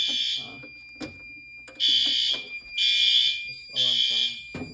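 A house fire alarm sounds in loud repeated beeping bursts, broken by short gaps, while people talk close by between and under the blasts.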